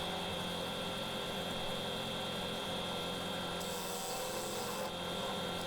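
Wood lathe turning off the foot of a bog oak bowl, a steady scraping rasp of the tool cutting wood over a constant motor hum, continuous and close with no talking.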